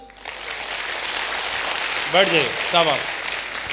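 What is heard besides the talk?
audience applause at a speech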